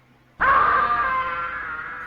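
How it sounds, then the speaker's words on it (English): A child's scream plays on death in a Home Alone video game, starting abruptly and holding as a loud, sustained, slightly wavering shriek for well over a second. "every time you die, you get Kevin screaming in your face"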